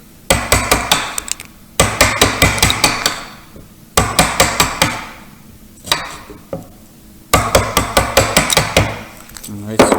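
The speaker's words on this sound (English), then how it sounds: "I'll go to the top of the hill and start chiseling down as flat as I can." A hammer drives a chisel into wood for a vanity mirror frame, landing bursts of sharp, evenly spaced close strikes that ring briefly, with short pauses between the runs.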